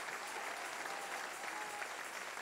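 A church congregation claps as an offering of praise to God, a dense, continuous wash of many hands that stays steady and full with no pauses.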